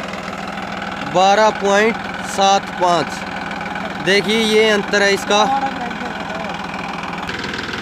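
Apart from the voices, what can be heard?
Massey Ferguson 9500 Smart tractor engine running in first gear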